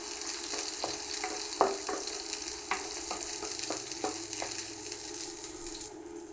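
Chopped garlic and two onions sizzle in hot oil in a pan for restaurant-style chow mein, a steady close hiss broken by occasional sharp stirring clicks and scrapes.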